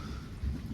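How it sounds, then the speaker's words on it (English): Thunder during a thunderstorm gives a brief, low rumble that swells and fades within a second over a soft background of rain. "Oh, there's some thunder."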